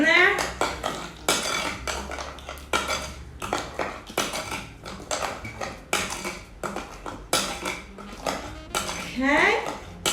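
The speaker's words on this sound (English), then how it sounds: "Mix that in there." Spoon stirring sugar into vegan banana bread batter in a bowl, heard as a steady run of close clinks and scrapes against the bowl, with a voice speaking over part of it.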